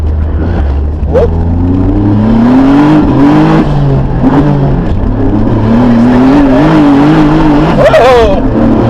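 A 600HP Hyundai Genesis Coupe accelerates hard, its engine note climbing and surging with a brief skid, loud and close inside the car while people talk over it.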